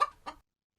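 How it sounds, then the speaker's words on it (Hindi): Chickens cluck twice in quick succession, close and clear, before the sound cuts to silence. "उसकी सारी मुर्गी भी शोर करती अंदर आ जाती हैं।"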